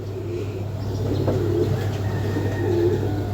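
Original Lahori pigeons, kept for sale in pairs, give low soft coos in a few short, repeated phrases close by, over a steady low hum.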